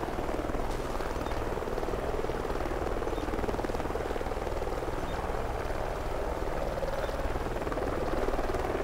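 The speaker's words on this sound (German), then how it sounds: "Ein fucking Heli ist jetzt auch noch da, der uns hier verfolgt wahrscheinlich." A helicopter in the Call of Duty Ghosts video game, on a jungle mission, gives a continuous rotor and engine drone at an even level for the whole stretch, with no talk over it.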